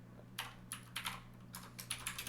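Clacky keyboard typing, a quick irregular run of sharp key clicks close by, with short pauses between bursts over a low hum.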